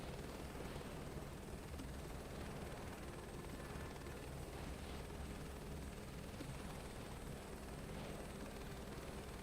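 Steady, heavy rotor and turbine roar of a search-and-rescue helicopter in Microsoft Flight Simulator 2024, a loud, unbroken drone that holds constant throughout with no voices.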